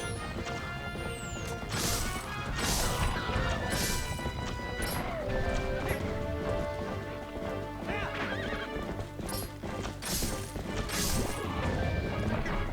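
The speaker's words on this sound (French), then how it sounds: "ça drop des bombes sur le cheval" Bombs dropping onto a horse and blowing up in The Legend of Zelda: Twilight Princess HD, with loud repeated crashes over dense game music, galloping clip-clop hooves and horse whinnies throughout.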